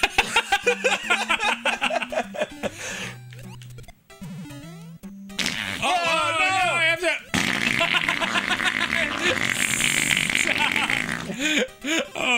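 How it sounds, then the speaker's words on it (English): A cartoonish fart noise from a video game sounds amid squeaks, crashes and chaotic game effects, with lively talk and laughter over it for much of the stretch. "That's the fart noise I haven't heard like since childhood."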